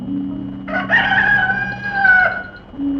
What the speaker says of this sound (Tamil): ஜாமக்கோழியும் கூவிடுச்சு